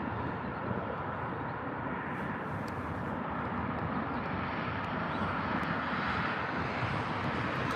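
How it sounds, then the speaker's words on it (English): British Airways Airbus A380 taking off low at Heathrow, a loud continuous jet engine roar holding steady throughout with no voices. "A nice, stunning low takeoff there from the A380"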